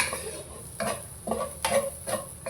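Potatoes are sautéed in hot oil with cumin and fennel as a spoon stirs and scrapes the pan. Repeated close stirring scrapes sit over a soft, steady sizzle.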